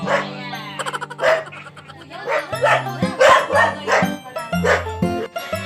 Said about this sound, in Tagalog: nandito po yung mga aso